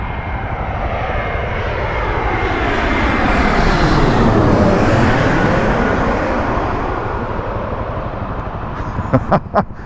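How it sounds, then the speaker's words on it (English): A large airplane passes nearby at an airport, its engine roar swelling steadily to a loud peak and then fading, with a few sharp clicks near the end. "There's a bloody noisy aeroplane over there that's waiting to take off."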